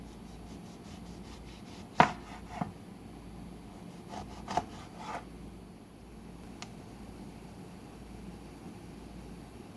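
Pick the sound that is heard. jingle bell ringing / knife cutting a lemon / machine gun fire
knife cutting a lemon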